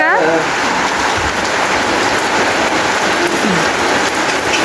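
Sudden rain falls outside, a dense continuous hiss of drops hitting surfaces, loud and steady with a faint voice briefly audible.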